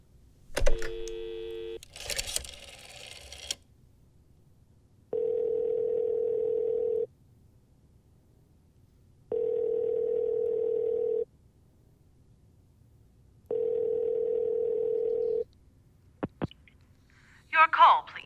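A telephone line sounds during a call. Some clicks and dialing noises come first, then three long steady tones of about two seconds each, evenly spaced with quiet gaps, and a brief clatter at the end. No clear talk.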